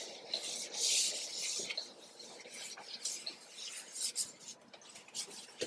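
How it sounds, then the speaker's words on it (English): Scrubbing a sink with a sponge and Comet bleach cleaning powder gives a steady gritty, rasping rub in uneven back-and-forth strokes, close and fairly quiet, with no voices. "then I'm going to get there and really scrub so you can see both ways"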